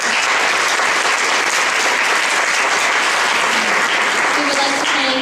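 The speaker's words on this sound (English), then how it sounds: "so big applause to her." Loud, dense applause fills a community arts center after a stage performance of The Sound of Music, a steady wash of many hands clapping continuously throughout, close and full.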